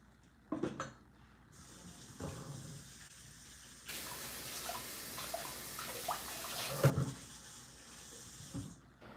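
Hands being washed under a running tap while making banana nut bread, a faint steady water stream with splashes and small knocks, brief louder gush in the middle, quiet throughout.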